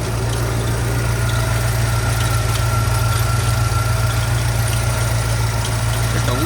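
The engine of a restored 1973 International 1210 4x4 truck idles in a steady, close, low rumble that does not change, with a faint thin tone above it that may be a chirping belt.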